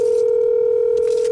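A steady telephone dial tone sounds during a phone call in the Fortnite video game, a loud continuous pure hum held unbroken throughout, with faint noise bursts near the end.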